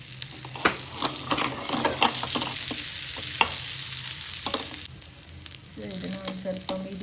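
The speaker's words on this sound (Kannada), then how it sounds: "ಇದನ್ನು ಒಂದು ಸ್ವಲ್ಪ ಮೀಡಿಯಮ್ ಫ್ಲೇಮ್ನಲ್ಲಿ ಬೇಯೋದಕ್ಕೆ ಬಿಟ್ಟಿದ್ದೀನಿ, ಅಂದರೆ ಫ್ರೈ ಆಗೋದಕ್ಕೆ ಬಿಟ್ಟಿದ್ದೀನಿ" Patties fry in a pan over a medium flame with a steady, fairly loud sizzle and crackle, punctuated by sharp clicks and scrapes of a spoon, and a faint tonal hum near the end.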